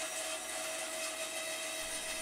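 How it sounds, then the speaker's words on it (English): Bandsaw cutting straight lines into notches in wood for overlapping dividers of an artist's case, a steady even whine with a sustained tone, close and alone. "I use the bandsaw just to cut down the straight lines"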